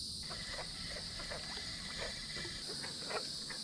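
Frogs croak in short, repeated calls at an overgrown pond, set against a steady high chorus of insects at low volume.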